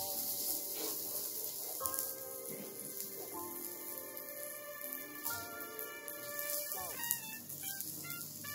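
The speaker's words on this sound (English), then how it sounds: "Hear that sizzle?" Garlic butter sizzles on an electric grill at a Korean BBQ and hotpot meal, a soft steady crackle and hiss running low in the background, close but quiet.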